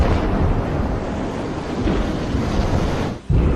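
Heavy surf and churning sea water roar continuously and loudly in a tsunami at sea, with wind buffeting the microphone and a brief dip near the end.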